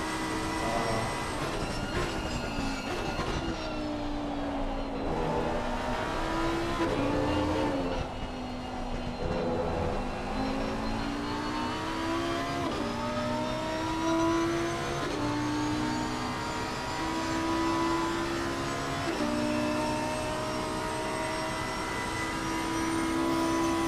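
GT3 race cars in the video game Assetto Corsa Competizione on the Imola circuit, engines droning steadily and loud throughout as their pitch rises and falls through gear changes, heard alone without any talk.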